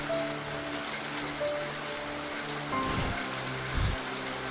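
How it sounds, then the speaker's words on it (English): Heavy pouring rain in the visual novel game DDLC Salvation Remake, a steady broadband hiss of downpour running throughout with soft background music tones and a couple of low thuds. "It's hard to hear her soft voice over the loud sounds of the pouring rain."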